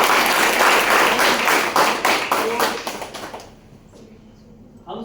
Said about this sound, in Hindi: जोरदार ताली आप लोगों के।